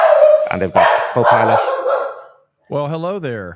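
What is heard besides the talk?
dog barking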